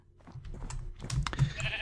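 Sheep bleat in Minecraft, a few short, faint calls rising near the end of a brief stretch, with light keyboard clicks underneath and no talking.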